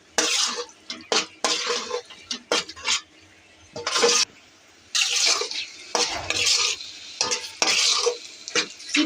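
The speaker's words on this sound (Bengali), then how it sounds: "এখন উপর থেকে একটু চিনি দিয়ে লাড়া দিব, শেষ।" Taro mash made with dried kachki fish, stirred in a pan after sugar goes in, with loud close scraping strokes and clinks of a utensil against metal in bursts over a faint sizzle.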